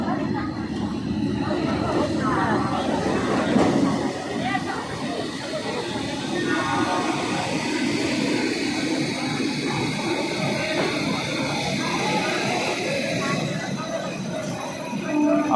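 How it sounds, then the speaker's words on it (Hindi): Netaji Express 12312 arriving at Howrah Junction railway station platform: a steady loud rumble of carriages rolling in with wheel squeal and clatter, continuous throughout, with people talking on the platform underneath. "फाइनली हमारी ट्रेन आ चुकी है हावड़ा जंक्शन रेलवे स्टेशन पर।"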